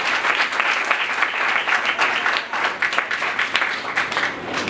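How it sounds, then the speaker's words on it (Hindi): A large congregation at a Christian church service applauds loudly and steadily, dense clapping filling the whole stretch without a break. "आइए उस मसीह के नाम के लिए जोरदार तालियां बजाएं"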